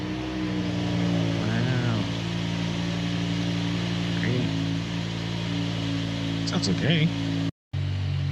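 A car engine idles after a cold start with a steady low rumble and harmonic drone, while people talk briefly over it; the sound cuts out for a moment near the end.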